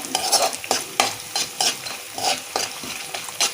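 Chana dal, urad dal, cumin and mustard seeds fry with peanuts as a spoon stirs them in a rhythmic series of loud, close scraping strokes over a continuous sizzle, with no voices.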